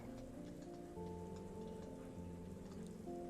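Steady rain patters on a tropical island in a resort-building video game, a dense wash of drops and ticks under soft sustained musical tones, continuous and fairly even throughout.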